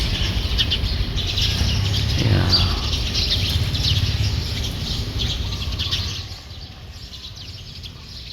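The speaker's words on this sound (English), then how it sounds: "There's a bird on the top." A bird calls from a treetop outdoors during a walk, its chirps and squawks moderately distant over steady outdoor background noise, which drops off near the end; a single brief word is spoken.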